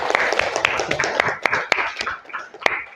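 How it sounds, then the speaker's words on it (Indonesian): A group of classmates claps in close, uneven bursts for a few seconds, the sharp hand claps mixed with a busy room murmur. "Oke, beri tepuk tangan sekali lagi untuk teman-teman."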